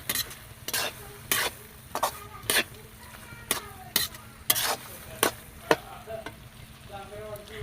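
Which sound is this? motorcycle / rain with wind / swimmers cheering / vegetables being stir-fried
vegetables being stir-fried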